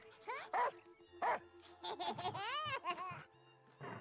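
A puppy in the video game Last Day of June gives several short, high yapping barks in bursts, close and clear, with a voice speaking between them.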